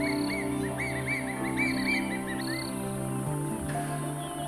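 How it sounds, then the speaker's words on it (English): Crested barbet calling in the wild in Botswana, a run of short, rhythmic chirping notes repeated over a steady background of insect and bird chorus, fairly close and clear. "Crested barbets are solitary by nature."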